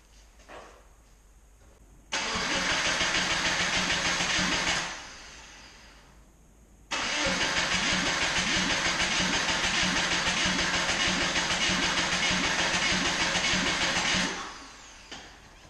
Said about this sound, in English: the fuel pump relay is disconnected, so it's going to crank and crank until that oil light goes out